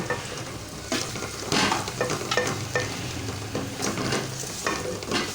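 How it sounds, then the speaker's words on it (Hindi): Garlic and onion fry with spices in a pan, giving a dense, steady sizzle broken by repeated scraping stirs. It runs loud and close throughout, with no talking. "अब इसमें हम शामिल करेंगे मसाला, जो मसाले हमारे हैं, और इनको भून लेंगे।"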